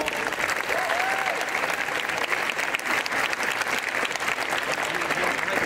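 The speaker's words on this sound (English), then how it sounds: "Let's give them one more round of applause" Crowd applause at a high school college signing ceremony, steady dense clapping filling the room throughout with faint voices and a whoop mixed in.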